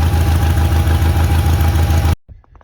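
A Bolens HT-23 garden tractor engine runs at a steady idle, loud and close, with a regular low throb, then cuts out abruptly near the end, leaving faint handling noises.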